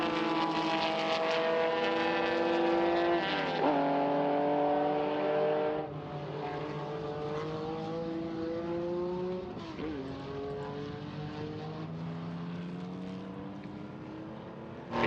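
Porsche and BMW race cars at speed on the Estoril circuit, engines howling loudly and continuously with rising and falling pitch as gears shift and the cars pass close by, no talking.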